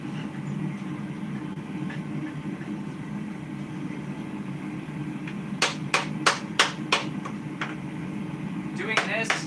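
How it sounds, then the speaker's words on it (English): A rawhide mallet strikes twisted wrenches laid on a wood stump to straighten them, a quick run of about six sharp knocks near the end, with someone talking underneath and a low background hum. "we're going to use our rawhide mallet and a wood stump just to straighten them out"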